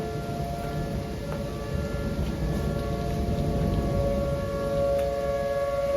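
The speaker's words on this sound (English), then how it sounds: "Tornado sirens now." Tornado sirens wail in a steady, sustained tone from some distance, holding a drawn-out pitch over a constant background hiss with no one speaking.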